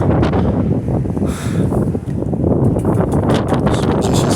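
Heavy wind buffeting a microphone, a loud continuous low rumble with gusty surges, no voices.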